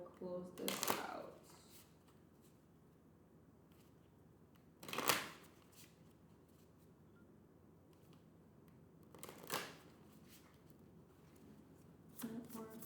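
Plant oracle cards being shuffled by hand, in about four separate bursts of riffling spaced several seconds apart, fairly close and moderately loud against quiet room tone.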